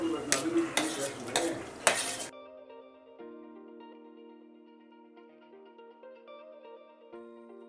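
Chopped tomatoes go into a pan of frying onions for a village-style dried prawn and egg pulusu, giving a loud burst of sizzling and clattering stirring for about two seconds before it drops to quiet background music.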